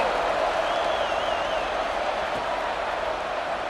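A home crowd roars at kickoff in EA Sports College Football, a broad, steady wash of cheering that holds without pause throughout. A faint whistle-like tone rises and falls briefly near the start.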